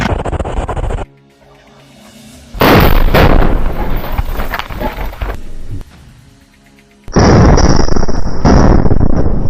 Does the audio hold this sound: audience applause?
no